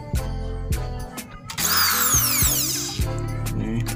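A Kleiten electric drill is switched on and off in short bursts, then spins up in one longer run with a whining motor and rising tones, followed by further brief triggers; close and fairly loud with no talking.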